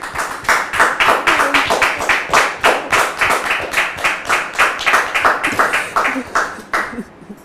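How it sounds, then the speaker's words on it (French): A studio audience on a French-language talk show claps rhythmically in unison, loud and close, with steady beats throughout before fading at the end. "Public, merci de le recevoir sous vos applaudissements."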